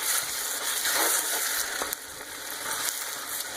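Vine tomatoes sautéing in a pan for kasoy meat sauce, a steady bright sizzle with wet crackles and occasional stirring scrapes, close and fairly loud with no talk.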